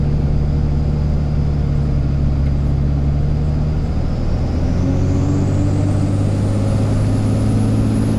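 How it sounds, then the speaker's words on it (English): A Cummins diesel engine swapped into a Ford truck gives a steady, low rumble with exhaust drone throughout, rising slightly in pitch toward the end, with no talking. "The exhaust is like the right amount of loud."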